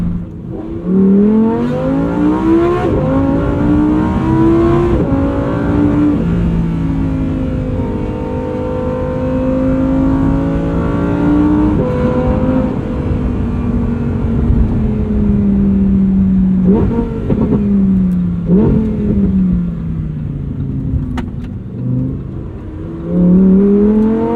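A red Lamborghini engine revs repeatedly in rising and falling sweeps, loud and close, with a strong throaty drone that climbs and drops in pitch across a long stretch, no voices over it.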